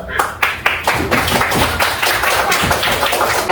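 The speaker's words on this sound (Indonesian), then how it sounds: "Aplaus dulu." Students in a classroom clap together in a quick, rhythmic burst of close, loud applause lasting a few seconds.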